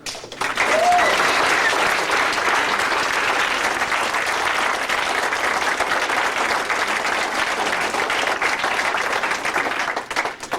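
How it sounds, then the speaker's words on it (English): A crowded room at a 2003 Iowa campaign event for John Kerry's presidential run breaks into loud, steady applause that holds at full strength for about ten seconds before easing slightly at the end. "give a warm round of applause in the back of the room, Captain Jeff Struker"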